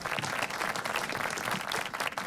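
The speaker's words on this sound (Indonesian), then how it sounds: "tepuk tangan dong teman-teman, tepuk tangan buat yang Komeng" A live audience at an Indonesian comedy podcast taping bursts into dense, loud applause, continuous clapping with no pauses throughout the short stretch.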